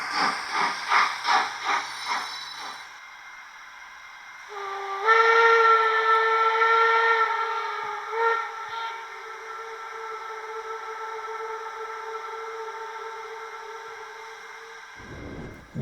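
Model steam locomotive sound decoder on a Z21-controlled layout, first several short rhythmic chuffs, then a long sustained steam whistle of roughly ten seconds that cuts off sharply, heard close and clean with no talk.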